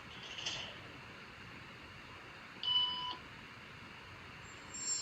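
Two short electronic beep tones, one near the start and a clearer, steady one around the middle, over a quiet room hum.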